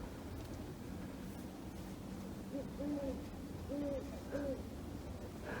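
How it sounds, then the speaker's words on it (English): Two owls hooting at night outdoors, with a few soft, separate hoots midway through over a steady hiss of background noise. The calls sound moderately distant. "There's a couple of owls."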